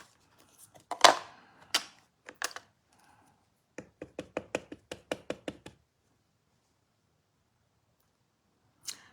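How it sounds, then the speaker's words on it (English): Scissors fussy cutting around a stamped paper image, a run of crisp separate snips and clicks, some in quick bursts, close and alone, with a pause before one last snip. "This one I'm going to fussy cut around because I want to fussy cut it around."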